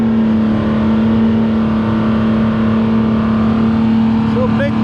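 Big Bertha, an old International S-Series fertilizer truck now running a V12 Detroit engine, roars at a tractor pull with a loud, steady, sustained drone and a strong low hum throughout.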